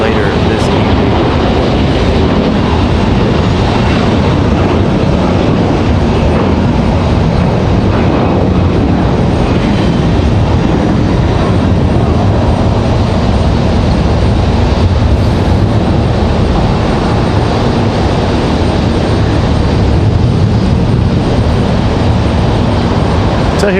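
A Republic Airways regional jet, flight 4514 arriving from Pittsburgh at Raleigh-Durham International, gives a steady, loud broadband engine roar that fills the whole stretch with little change, with a voice talking over it.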